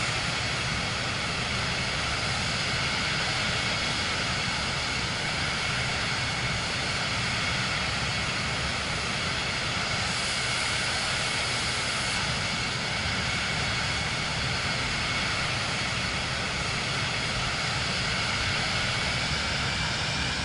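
Aircraft engine drone in Microsoft Flight Simulator 2024 on PS5, a steady, loud broadband roar that holds evenly throughout with no talking.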